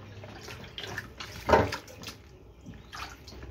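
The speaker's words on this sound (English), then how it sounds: "Make sure your salt is dissolved in the water and your leaves carefully amassed" Moi moi leaves being washed in salted water, with soft sloshing and splashing of water, one louder splash midway, close and without talk.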